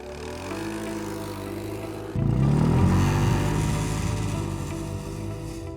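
A Dingo snowmobile engine drones steadily in deep snow with one rider aboard, then rises sharply into a louder, rougher roar as it pulls away and keeps running hard.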